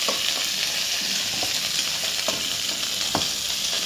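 Cumin seeds sizzle steadily in hot oil in a pan, a loud, continuous frying hiss with a few soft clinks from stirring.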